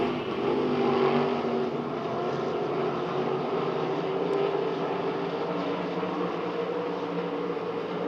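Race cars come out of turn four on the Devil's Bowl Speedway track during the Winter Nationals, a sustained engine drone from the pack that swells slightly early and holds steady at a moderate distance, with faint crowd ambience.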